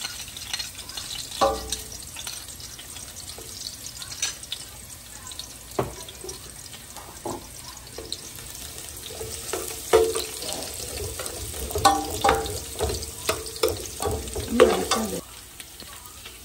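Garlic frying in a pan for chicken and shrimp fried rice, a steady sizzle with scattered clinks and scrapes of stirring, and running water audible in stretches; no one speaks.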